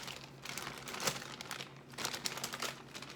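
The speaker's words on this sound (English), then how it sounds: "I have this plastic bag that I had the cheese in." A plastic bag holding lasagna noodles crinkles and rustles continuously in a kitchen, loud and close, swelling in several bursts with no talk.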